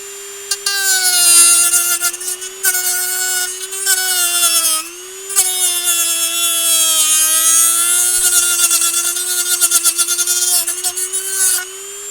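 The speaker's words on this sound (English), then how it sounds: "I'm just going to want to remove that with the Dremel" A Dremel rotary tool whines at a high, steady pitch as it cuts a drone rotor, the motor note dipping briefly under load and pausing once before spinning back up, loud and close.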